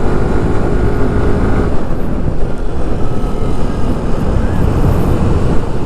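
A Yamaha FreeGo 125 scooter engine pulls hard on a busy road, a loud steady roar mixed with wind rush and surrounding traffic noise.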